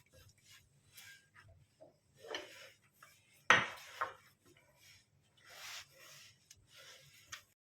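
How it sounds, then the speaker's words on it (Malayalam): Dough is kneaded by hand on a kitchen countertop, producing soft intermittent rubbing, pressing and slapping sounds with one sharper thump, faint and close in an otherwise quiet room. "ഇനിയിപ്പോൾ നമുക്ക് ഈ കൗണ്ടർ ടോപ്പിലേക്ക് ഇട്ട് നന്നായിട്ട് ഒരു 15 മിനിറ്റ് കുഴച്ചെടുക്കാം"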